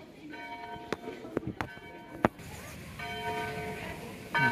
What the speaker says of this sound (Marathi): बराच वेळ घंटा वाजते.